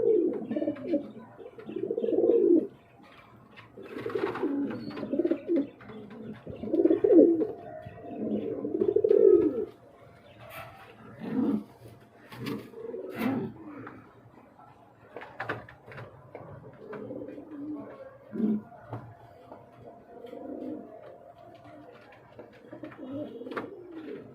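A Danish running pair of pigeons coos close by in repeated low, rolling phrases separated by short pauses, with faint clatter in the background and no talking.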